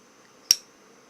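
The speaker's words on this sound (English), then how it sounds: "I love Zippo lighters, you guys." A single sharp metallic click from the lid of a 2003 Zippo lighter, close and crisp, standing alone against a quiet background.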